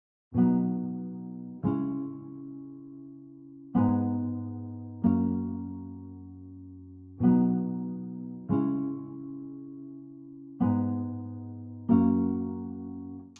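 Vinyl Guitar VST plucks a dry guitar melody without effects, about ten separate strummed notes in a slow, even pattern, each ringing and decaying cleanly, close and alone.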